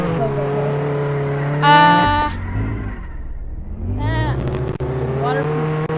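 A person's voice imitates a car, with revving engine tones, a squeal-like sweep and rising accelerating pitches, loud and close with short pauses between bursts.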